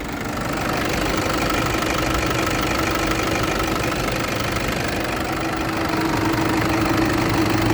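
A 2012 Toyota Hilux Vigo Champ 2.5E four-door pickup engine idling just after starting, a loud, close, steady diesel rumble with an even clatter throughout and no talk.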